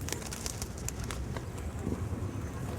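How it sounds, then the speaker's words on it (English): Pigeons coo softly in an outdoor spot in Athens, faint low calls mixed with light wind noise and distant city ambience, no one speaking. "These are the fattest pigeons I've ever seen in my life."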